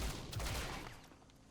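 Gunfire in the video game XCOM: Chimera Squad: a short, dense volley of loud shots that rings out and fades over about a second and a half, with no talking.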